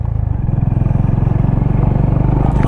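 Honda H'ness CB 350 motorcycle ridden over a patchy off-road stretch, its single-cylinder engine thumping steadily and loud up close with rhythmic pulsing and a low rumble throughout, no talk.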